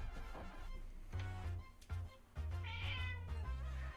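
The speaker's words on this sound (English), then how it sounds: "Socks, are you meowing to go in the cupboard, or are you meowing to get up onto the desk" A pet cat meows several times in a quiet room, close and clear, the calls rising and falling with short pauses between them.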